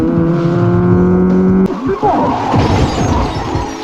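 Cars in a movie chase scene: a loud engine roar with a steady drone gives way to an abrupt crash. Rumbling, scraping impact noise follows, loud and close.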